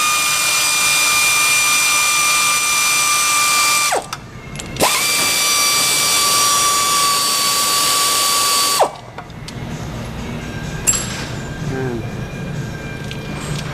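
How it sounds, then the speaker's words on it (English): A 13 mm socket on a ratchet clicks rapidly and steadily while loosening starter bolts during transmission removal on a 2006 Ford Taurus, in two long close bursts separated by brief pauses, with softer workshop clatter at the end. "we got our 13 on here, we're going to go hit some starter bolts"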